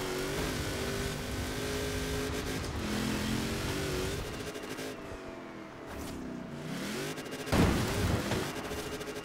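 A Mercedes X-Class pickup truck engine in the racing game Forza Horizon 4 drones and accelerates steadily, with a brief louder burst near the end; no talking.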